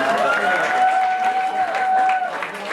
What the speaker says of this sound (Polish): brawa, naprawdę